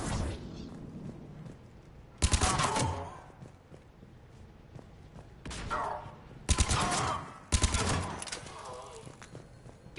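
Bursts of gunfire in Mass Effect 3 break out in short loud volleys at intervals, with shouting voices and a busy background between them.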